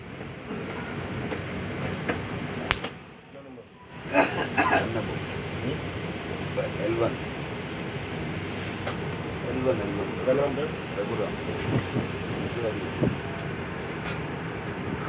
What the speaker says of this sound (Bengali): ঠিক 6টায় সঠিক 6টায় ছেড়ে দিল ট্রেন